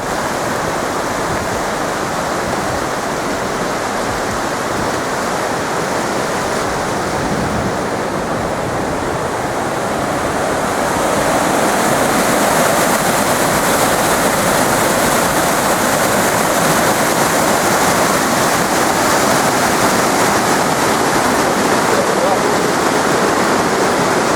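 Steady, loud rushing water from a waterfall on a hiking trail in Redes Natural Park, Asturias, fills the whole stretch, a dense roar that grows a little louder about halfway through.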